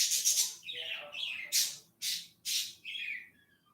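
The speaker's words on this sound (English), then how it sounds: "Violet's chirping." A pet bird chirps and squawks close by in an indoor setting, giving a run of sharp, loud calls with short gaps between them. No one speaks over the calls.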